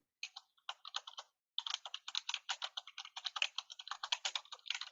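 Quick, steady typing on a computer keyboard, a run of crisp close key clicks with a short pause near the start before a dense continuous burst, no voices.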